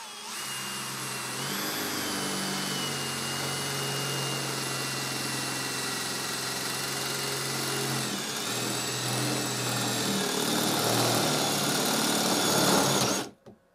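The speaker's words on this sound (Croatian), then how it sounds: "sada ćemo da uradimo bušenje 50 puta 50, 2 mm, da vidimo kako tu buši" A Bosch Professional GSB 18V-65 cordless drill with a hole-saw bit whines at a steady high pitch while boring through 2 mm metal, 50 by 50, dipping briefly midway, then rising sharply before cutting off.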